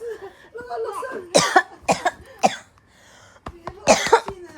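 Several sharp coughs come in bursts, a cluster near the start and another later, loud and close, with other voices and noises between them.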